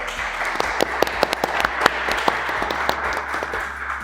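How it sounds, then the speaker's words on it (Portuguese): An audience in a talk or interview setting bursts into steady applause, dense overlapping hand claps close and fairly loud for a few seconds, with faint voices underneath. "Merece uma salva de palmas, pode ser?"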